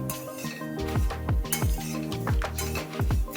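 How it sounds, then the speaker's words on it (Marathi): A spoon stirs vermicelli roasting in ghee in a pan, producing repeated close metallic clinks and scrapes against the pan in an irregular rhythm. "कंटिन्यू छान असं हलवत राहायचं आहे चांगला सोनेरी रंग येईपर्यंत शेवाय छान अशा भाजून घ्यायच्या आहे"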